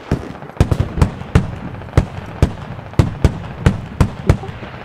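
Mortar rounds exploding in the military shooter Squad, about a dozen sharp booming blasts at uneven intervals roughly every half second, fairly close and loud over a low rumbling background.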